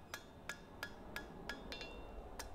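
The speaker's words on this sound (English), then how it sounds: "I'm trying to adjust those curvatures by hammering over the horn." Hammer blows on hot iron as a fishtail scroll is shaped over an anvil horn at the forge, nine or so sharp ringing strikes at a steady, slightly uneven rhythm, close and clear against a quiet background.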